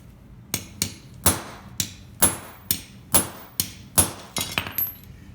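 A hammer strikes a punch to seat a bushing in a 1970 Cuda wiper linkage, about a dozen sharp metallic taps in a fairly steady rhythm, close and alone.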